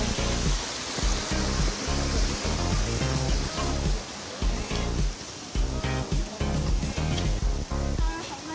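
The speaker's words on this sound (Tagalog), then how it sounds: "May ilog." A river flows beside a park near Wong Tai Sin Temple in Hong Kong, a constant broadband rushing of water heard close, with voices and low murmuring sounds underneath.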